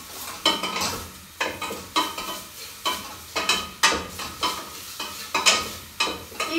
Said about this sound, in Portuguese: É o cheirinho da cebola sendo refogada no azeite